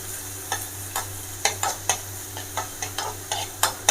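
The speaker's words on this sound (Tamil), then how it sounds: "கொஞ்சமாக ஆனியன் போட்டு நல்லா ஃப்ரை பண்ணிக்கோங்க" Onions fry in oil in a kadai while a ladle stirs them in regular, sharp scraping strokes roughly every half second over a soft continuous sizzle.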